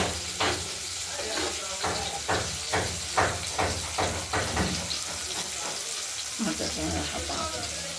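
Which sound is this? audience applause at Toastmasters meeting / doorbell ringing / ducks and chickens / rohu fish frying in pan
rohu fish frying in pan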